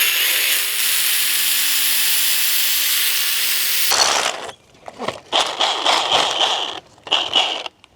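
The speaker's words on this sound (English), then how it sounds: "If you've got it too big of a hammer drill, what you can do is you can pre-start with a smaller bit" A hammer drill grinds loudly and steadily for several seconds while drilling for an earth electrode, then stops, followed by a series of short, choppy scraping and drilling bursts.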